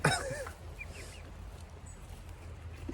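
A flock of pet Pekin chickens in a garden gives a burst of honking, squawking calls at the start, then fades into a low outdoor hum with a faint call near the end.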